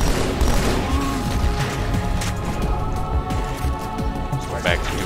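Burst-fire gun shooting in Halo 2: Anniversary on Cairo Station, with repeated sharp gunfire and explosions under a continuous game soundscape, loud and busy, with a voice talking over it.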